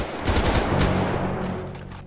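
Gunfire in the video game GTA 5 rattles in rapid, overlapping bursts of shots, loud and close, sustained across the whole stretch with no voices.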